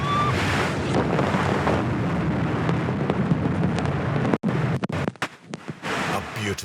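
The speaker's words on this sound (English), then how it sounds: "It's during a storm on the Black Sea." Storm wind buffeting the microphone and waves surging on the Black Sea, a loud continuous roar that breaks into gusty, choppy bursts near the end.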